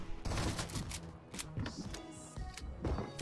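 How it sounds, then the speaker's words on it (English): Rapid bursts of video game gunfire with loud booming shots and rattling volleys, dense and close over about three seconds with no talking. "Yo, nice shot, Peter."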